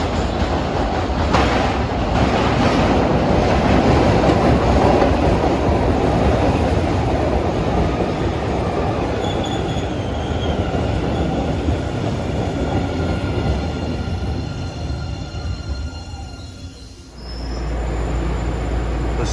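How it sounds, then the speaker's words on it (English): A Siemens-built MBTA Blue Line subway train bound for Bowdoin climbs out from under Boston Harbor, leaving East Boston, its loud, steady rumble and wheel clatter filling the air before fading and dropping away near the end. "here we have a Bowdoin-bound Blue Line train climbing up out from underneath the harbor, leaving East Boston behind"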